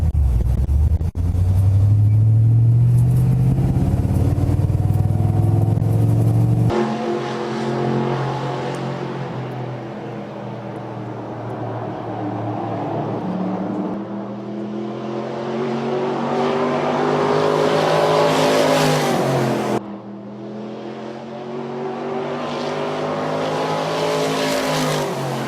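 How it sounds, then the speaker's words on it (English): A real race car laps a track at 125 to 130 mph, its engine roaring loud and close with rising and falling revs, gear shifts and a sharp drop as it passes. "to go around the track at 125, 130 miles an hour in a real race car"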